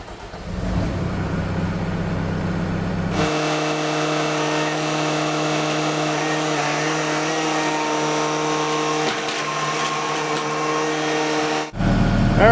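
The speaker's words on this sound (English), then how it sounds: "now that we have the machine dislocated off of the ramps" A New Holland C232 skid steer rolls down off its ramps, its engine running steady with a strong tonal drone. The engine starts up abruptly partway through, holds evenly and close, then cuts off sharply near the end.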